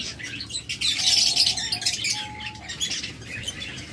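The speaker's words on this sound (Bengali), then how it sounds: "প্রত্যেকটাই কিন্তু লুটুনো পাখি রেড আই" A cluster of small lutino red-eye lovebirds chirps and squawks continuously, with high twittering calls and a couple of sustained whistles, fairly close.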